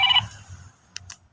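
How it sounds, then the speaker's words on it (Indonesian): A telephone rings with a short electronic tone burst, followed by two brief chirps a moment later, set against a quiet low hum in an indoor room. "sebentar, ada telepon"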